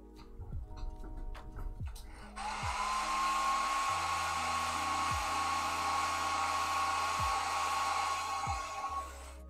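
A hair dryer blows steadily close by, drying fresh paint on an HO scale model diesel locomotive being weathered, a loud continuous whir after a quieter start with a few soft ticks.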